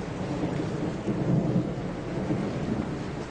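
Low rolling thunder rumbles continuously ahead of rain, swelling slightly in the middle and fading back, deep and distant-sounding with a faint hiss like light rain beneath, no voices.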